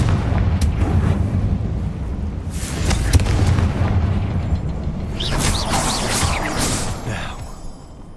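A Confringo blasting spell bursts in Hogwarts Legacy, producing a heavy booming rumble with sharp cracks and crackling debris bursts over several seconds, close and loud, then fading.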